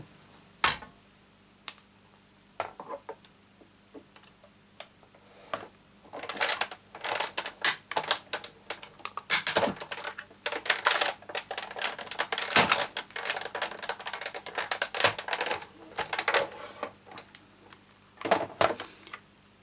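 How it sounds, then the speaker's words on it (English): A die cutting machine runs card through in one pass while crafting, giving a string of sharp clicks and crunchy mechanical snaps, sparse at first, then dense and busy in the middle, and near and fairly loud with no talk. "So that's all my die cutting in one go."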